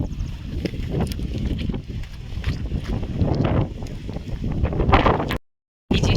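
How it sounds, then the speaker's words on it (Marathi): Strong wind buffets the microphone outdoors near a farm pond, a loud continuous roar with gusting swells and flapping tape rattling close by, before cutting out briefly near the end. "त्या हवा इतके चालू आहे ना त्यामुळे ना टेप पण उडतोय खूप जास्त"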